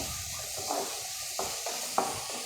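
Chopped onions sizzling in hot oil for a Kerala chickpea curry, a soft steady sizzle with a few light stirring scrapes and taps close by.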